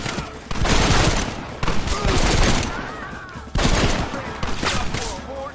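Heavy gunfire in Red Dead Redemption, rapid overlapping shots in three loud bursts with brief lulls between them. Shouting voices mix in with the shooting.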